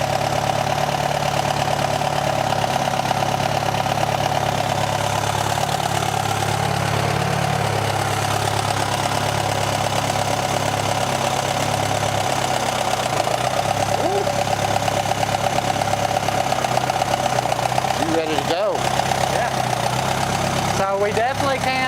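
A rare Allis Chalmers twin-engine tractor idling on just one engine with a missing piston, a steady loud rumbling throb throughout, with people talking over it and a few clunks near the end.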